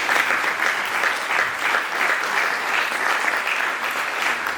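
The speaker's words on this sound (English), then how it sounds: "Let's have a big round of applause for Robin." Audience applause for a speaker at an education and AI event: a steady, dense clapping from a crowd that holds evenly and fairly loud throughout.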